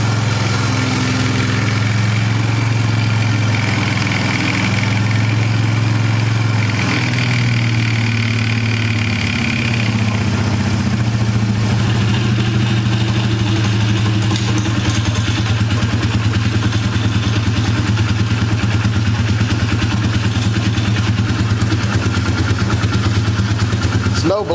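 A worn Polaris 325 Magnum ATV engine idles at close range with a steady, slightly uneven throb that holds throughout, while a person speaks intermittently over it.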